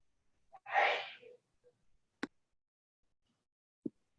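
A single quick sneeze sounds nearby, followed by a couple of faint clicks in otherwise quiet surroundings.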